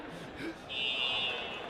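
A fire alarm going off indoors at a wrestling event, a steady high-pitched electronic tone sounding partway through and continuing over a noisy crowd and voices.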